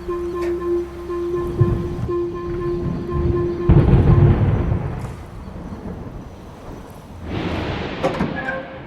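Thunder from an approaching storm in the Roblox video game rolls as low rumbles, swelling around the middle and again near the end, moderately loud with no talk.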